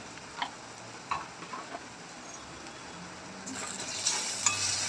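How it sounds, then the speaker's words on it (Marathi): Ground masala paste frying in a pan as spices such as turmeric, chili powder and cumin powder are stirred in. Faint ticking spoon taps over a low sizzle grow louder toward the end. No speech is heard. "वाटण छान फ्राय झालेलं आहे मसाले टाकून घेऊ"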